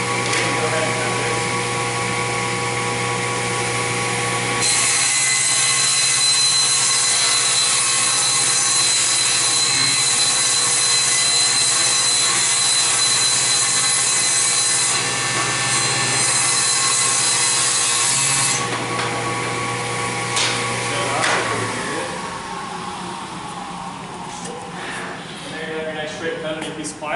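A table saw cuts through a wooden board: a steady motor whine, then a louder grinding cut lasting several seconds, and finally the blade winding down with some handling noise.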